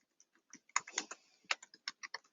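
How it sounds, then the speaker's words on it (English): Fingers type instructions on a computer keyboard in quick, uneven bursts of crisp, close clicks, with a brief pause midway and no talking. "I'm going to type those instructions here."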